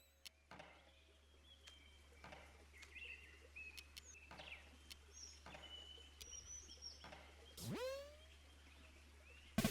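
Faint, sparse chirps and tweets of birdsong from the video game OFF sound over a quiet electronic hum, with scattered clicks and a brief rising swoop near the end.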